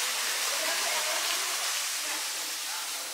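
A forest waterfall at a temple site in Chhattisgarh pours steadily, a loud, even rushing hiss that fills the whole moment with no other sound standing out.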